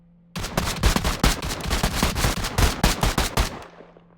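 Rapid bursts of gunfire crack out during an alternating shooting drill, a dense, close stream of sharp shots in quick irregular clusters lasting a few seconds before stopping abruptly.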